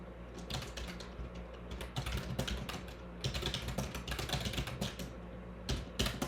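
A computer keyboard being tapped while a note is written: quick, light clicking in uneven bursts with short pauses, close and fairly quiet.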